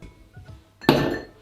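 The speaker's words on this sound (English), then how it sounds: "get your mixing glass and put some ice cubes" Ice cubes drop into a cocktail mixing glass with one sharp clinking clatter that rings briefly and fades, preceded by a few faint soft knocks, close and alone.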